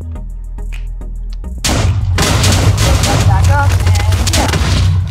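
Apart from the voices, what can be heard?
TNT explosions in Minecraft video game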